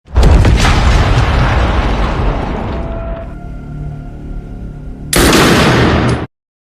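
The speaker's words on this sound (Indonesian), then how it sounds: "Marquis langsung meledakkan Hotel Continental New York dan membunuh Sharon." A hotel explosion in a John Wick film: a loud booming blast with crackling debris that fades into a tonal rumble, then a second abrupt roaring burst that cuts off sharply.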